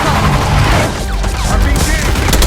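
Dense, loud gunfire rattles continuously in Call of Duty Black Ops 6 during a combat mission, with overlapping rapid bursts and booms filling the scene under faint voices.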